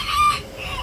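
Backyard chickens give a brief, close cluck or squawk, a single sharp call lasting under half a second with a softer trailing note, standing alone without talking.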